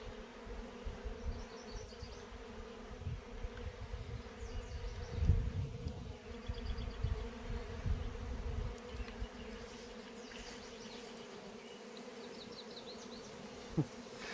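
Honey bees buzz steadily around an open hive during the spring honey flow, a continuous droning hum with individual bees passing close now and then, alone without voices.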